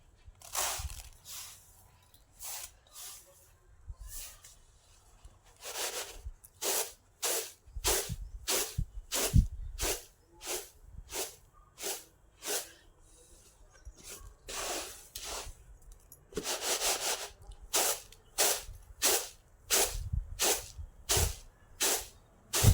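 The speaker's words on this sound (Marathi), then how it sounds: "आता हे पाकडून घेऊया." Coarsely ground mung lentils are winnowed by hand in a tray, giving a steady rhythm of short rasping whooshes, close and fairly loud, that repeats for a long stretch with small pauses.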